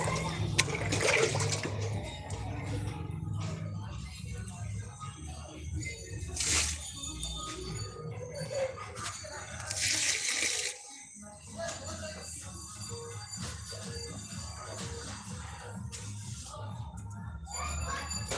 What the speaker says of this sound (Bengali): একটু একটু করে জল দিচ্ছি